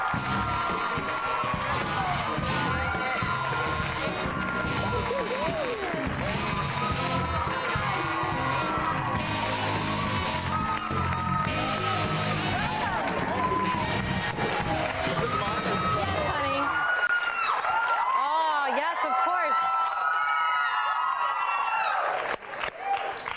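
TV talk show studio audience on the Bonnie Hunt Show screaming and cheering as a guest walks on, a loud continuous roar of shrieks and applause that cuts off abruptly near the end, leaving scattered laughter and a voice.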